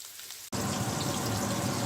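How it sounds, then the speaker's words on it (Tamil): Steady, dense sizzling and crackling of dried anchovies frying in hot oil in a pan, starting abruptly and continuing loud and close without pause. "இதில் இப்போ நான் பொரிச்சு கொண்டு இருக்கிறேன்"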